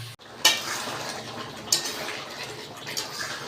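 Egg and potato stir-fried in a pan, a light sizzle beneath a few sharp metallic clinks and scrapes of a spatula against the pan, spaced out over a few seconds.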